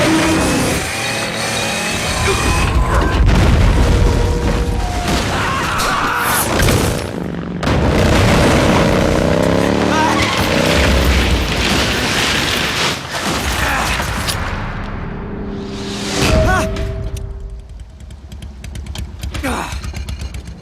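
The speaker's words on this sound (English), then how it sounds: "Oh, there's the C4 explosion." Booming explosions and rumbling blasts from Metal Gear Solid: Snake Eater 3D on the 3DS, loud layered game audio with deep impacts and music, followed by a quieter tail.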